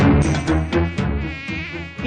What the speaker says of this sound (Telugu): ఛీ, ఛీ, ఛీ, ఈ యాదవ ఈగలు